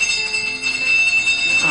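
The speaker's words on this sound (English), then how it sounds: "who the hell invented doorbells anyway?" A doorbell rings indoors in a domestic scene, giving a steady, sustained electric tone that holds loud and unbroken for nearly two seconds.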